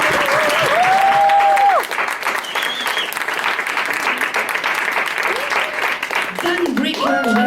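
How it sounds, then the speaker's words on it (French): Audience applause at a live rock concert in a small venue, a loud dense burst of clapping and cheering lasting several seconds, with whistles and shouts mixed in and a voice over the crowd near the end. "Applaudissements."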